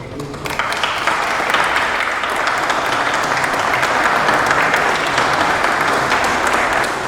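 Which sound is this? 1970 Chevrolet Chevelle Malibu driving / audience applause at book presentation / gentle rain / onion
audience applause at book presentation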